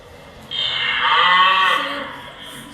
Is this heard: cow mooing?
yes